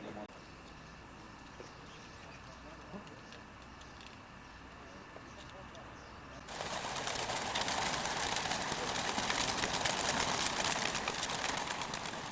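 Racing pigeons in a small transporter before release for a long-distance race to Perpignan, cooing softly at first, then buried under a loud, steady wash of noise in the second half.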